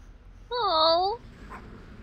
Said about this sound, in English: crate of puppies. They're all pugs